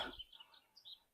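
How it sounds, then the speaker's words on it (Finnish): Small birds in a Finnish old-growth forest give a few faint, brief chirps and high tweets, spaced apart at a distance, following a short burst of noise at the start. "Täällä linnut laulaa."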